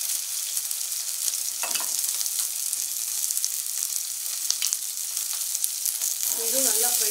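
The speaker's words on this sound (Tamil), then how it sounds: "இதுவும் நல்லா ஃப்ரை பண்ணிக்கோங்க. ஸோ பூண்டும் வந்துட்டு வெங்காயமும்" Onions and garlic frying in a pan for gobi manchurian, a bright continuous sizzle with occasional ladle taps and stirring, a brief voice near the end.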